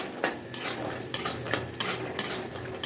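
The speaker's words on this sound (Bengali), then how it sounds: "বড়িগুলো এবার দিচ্ছি ভাজার জন্য" Small pea-lentil bori dumplings frying in oil, stirred in the pan. A low frying hiss runs under repeated short scraping clinks from a utensil against the pan, roughly every half second.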